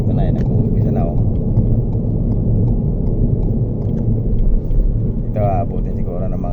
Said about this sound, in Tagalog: Napaka-traffic dito.